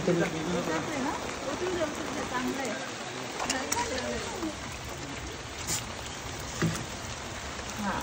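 Steady heavy rain hisses throughout, a dense wash of drops with a few louder splashes, while people talk faintly underneath.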